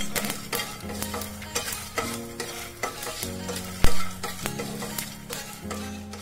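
Spices and dried red chillies fry and get stirred in a pan, with a steady sizzle under repeated scraping strokes and one sharp clack midway, no one speaking.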